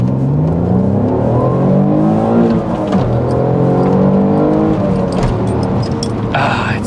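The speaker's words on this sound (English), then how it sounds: "let me give you one more acceleration of this beautiful Italian" An Alfa Romeo 156 GTA with the Busso 3.2 V6 accelerates close by, its engine note climbing in a strong, steady, sustained roar that briefly dips in pitch as it shifts, loud throughout with a voice faintly present.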